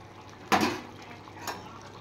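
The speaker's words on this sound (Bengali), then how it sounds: "ঝোল ফুটে গেছে, এবার আমি ভেজে রাখা বেগুনগুলো ছেড়ে দেব" Fried eggplant pieces dropped into a boiling fish curry broth give one wet splash and sputter, then a smaller second plop a second later, over a low bubbling background with no talking.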